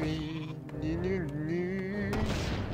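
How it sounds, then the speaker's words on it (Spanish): Sheep bleating in the video game Warcraft III, a wavering drawn-out bleat over steady game background noise with a sharp impact sound, moderately loud. "Una oveja."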